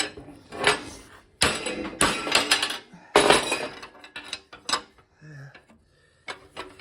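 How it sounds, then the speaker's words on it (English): Metal tools clinking and clattering while a pulley is bolted down, a series of loud close knocks and jangles in irregular bursts with short pauses between them. "I just bolted this pulley down."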